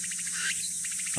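A cicada singing to attract a mate on a mountainside, its loud, continuous buzzing drone held steady and close with no talking over it.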